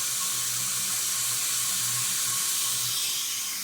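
An automatic drain valve on an air compressor blows out water in a loud, continuous hissing rush of air and spray that holds steady from start to finish without speech.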